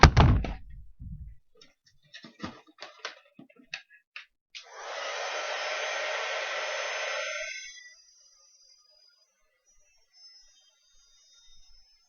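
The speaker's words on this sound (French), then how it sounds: "je vais donner un petit coup de gun pour sécher" A heat gun blows hot air to dry a rubber-stamped paper card, running as a steady whooshing roar for about three seconds before cutting off, preceded by light taps and handling clicks on a craft table, with no talking.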